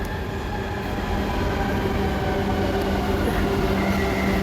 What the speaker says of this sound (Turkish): Bakın orada. Metro.